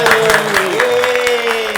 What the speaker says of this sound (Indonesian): Tapi tepuk tangan, berani keberaniannya.